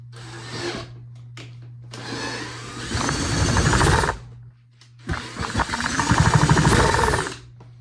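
Power drill boring back into a hole in a proton pack, two loud sustained whirring bursts with rising pitch, separated by brief pauses and a quieter low motor hum.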